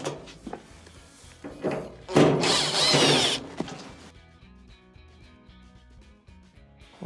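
A power drill backs Phillips screws out of a clothes dryer during a moisture sensor repair, with a short whir, then a louder sustained buzz of about a second, near and clear, followed by quiet handling noises.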